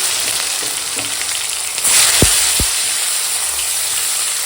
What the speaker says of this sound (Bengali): তেল গরম হয়ে গেছে শুকনো লঙ্কা আর সর্ষে ফোড়নে দিয়ে দিয়েছি